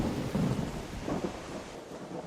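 Low rumbling thunder rolls on steadily under a wash of rain-like noise during an electromagnetic storm in the video game ARC Raiders, with no voices over it.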